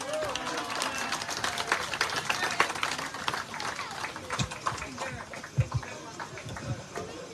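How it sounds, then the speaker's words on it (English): Round of applause from guests at a wedding reception during evening speeches and dancing, uneven clapping rising and falling with a few sharp thumps, and voices talking over it. "Let's give another round of applause to the beautiful speech and the performance by the St. John's family."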